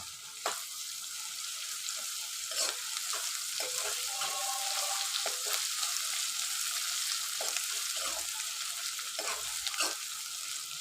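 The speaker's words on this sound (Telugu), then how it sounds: "ఇప్పుడు ఇది కొంచెం మనము ఆయిల్లో అయితే ఇట్లా ఫ్రై చేసుకోవాలి." Ginger paste and turmeric frying in oil ahead of cauliflower fry, a continuous bright sizzle with scattered spoon knocks and stirring scrapes throughout, steady and close; no talking.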